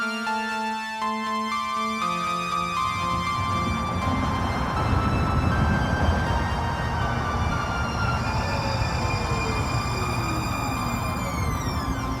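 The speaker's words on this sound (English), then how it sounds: "Red Line train to Daybreak." A Red Line light rail train runs to Daybreak in Salt Lake City, Utah, its steady rumble and tonal whine holding loud and close throughout, with a falling pitch sweep near the end and no talking.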